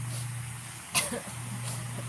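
A single short cough cuts through a steady background hum, brief and fairly close.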